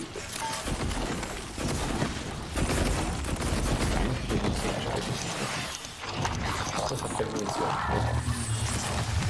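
Rapid bursts of gunfire in the video game Prey, dense repeated shots and booms filling the clip with brief gaps, while a voice talks over the action.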